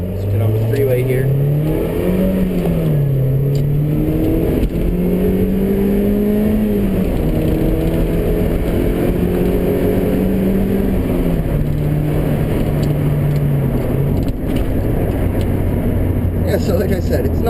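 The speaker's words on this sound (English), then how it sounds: "definitely enough power to accelerate on the freeway, onto the freeway, passing people" A small Mazda Miata accelerates onto a freeway, its engine note climbing through the gears with steady rising drone and brief dips at shifts, loud inside the cabin while someone talks over it.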